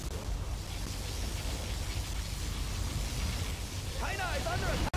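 Particle cannon blasts in the strategy game Command & Conquer Generals Zero Hour rumble as a sustained, heavy roar with deep low-end energy, and a brief chirping effect rises near the end.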